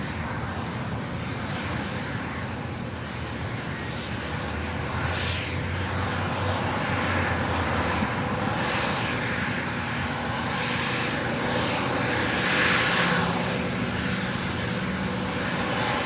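A plane takes off at Los Angeles International Airport, a loud, continuous engine roar with broadband rumble that swells slightly toward the end, no talk.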